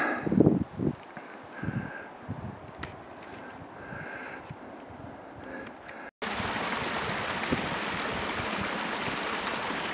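Creek flowing at water level in a forest in the Canadian Rockies near Lake Minnewanka, a steady broadband rush of water, fairly close, with brief rustling handling noises in the first half.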